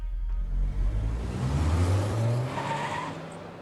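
Car arriving from the port in an Arknights scene, with loud tire skidding and engine roar up close, fading out toward the end, no talk.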